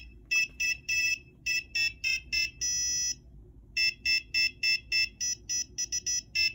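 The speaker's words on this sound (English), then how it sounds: "it's really, really cool with the buzzer" A shrill piezo buzzer on an Arduino beeps out a quick Christmas melody of short tones and one longer held note, loud and close, with no talking.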